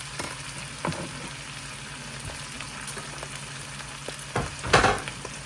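Steady sizzling of kale frying in a hot pan, with occasional scrapes and stirring clatter, loudest near the end.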